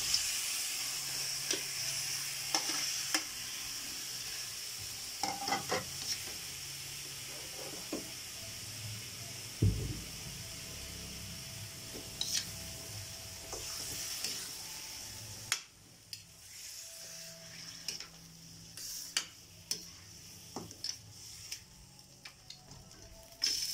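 Pork ribs for a cheesy caldereta hit a hot pan with a soft, steady hiss, quiet and close, broken by scattered clicks and clatters of cookware and one sharp knock.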